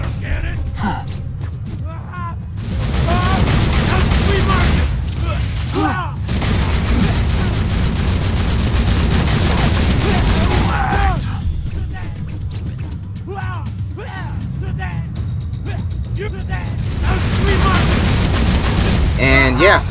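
Shotgun fire in the video game Borderlands 2, with repeated loud blasts in rapid bursts amid dense combat noise, while a voice talks over the action.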